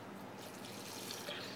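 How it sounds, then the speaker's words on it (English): Water runs into a cooking pot to rinse out finely ground coffee: a short, continuous splashing stream at moderate, close volume. "And I just put some more water in it"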